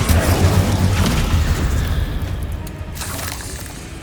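Incendio fire spell cast in Hogwarts Legacy, a loud booming burst of flame with a rushing, roaring tail that fades out over a few seconds, alone without speech.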